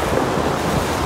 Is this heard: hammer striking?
no